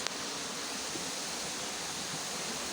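River stream flowing beneath a hanging bridge on a hiking trail, a steady broadband rush of water that continues without change throughout.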